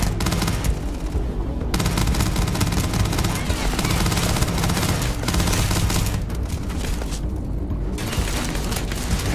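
Dense, continuous automatic gunfire from the sci-fi shooter Starfield during a fight with xenomorph creatures, loud and sustained with heavy booming low end throughout, voices faintly mixed under the shooting.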